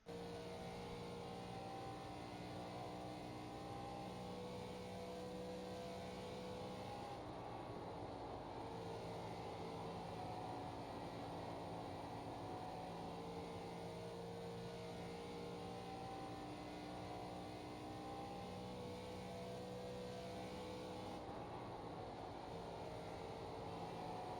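Steady engine drone inside an ARCA stock car lapping Charlotte in the iRacing sim, a constant loud cabin hum with tonal whine running the whole lap, no talking over it.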